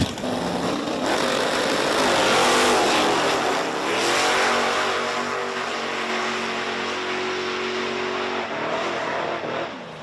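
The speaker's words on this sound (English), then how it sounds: "the 68 Camaro here in the left lane going up against the S10 pickup truck in the right lane" A 1968 Camaro and an S10 pickup truck launch side by side in a drag race at Virginia Motorsports Park, engines roaring loudly and close, swelling then fading as they pull away down the strip.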